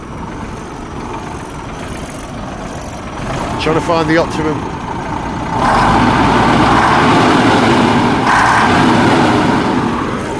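A 1970 Scammell military truck engine runs with a steady low rumble that swells noticeably louder about halfway through, while someone talks briefly over it.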